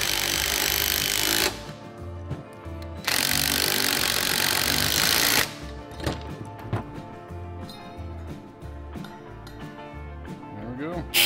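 A power tool trims down a pulley shaft in short loud bursts of grinding or cutting, two long runs separated by pauses, followed by quieter clanks and handling noises.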